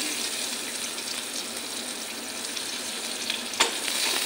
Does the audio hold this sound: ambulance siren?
no